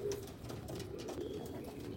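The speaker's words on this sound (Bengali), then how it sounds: "আপলুকের পিঠ দেখো" A flock of Abluk pigeons at a home loft keeps up a low, continuous cooing, soft and fairly distant, with no voice over it.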